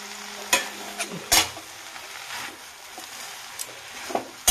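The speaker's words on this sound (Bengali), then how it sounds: "অল্প অল্প করে এর মধ্যে শাক দিয়ে নেব, শাক দিয়ে আমি নাড়াতে থাকবো।" Noté greens, a Bengali leafy green, being stirred a handful at a time in a frying pan, with scattered scraping stir strokes over a soft, steady sizzle and no talking.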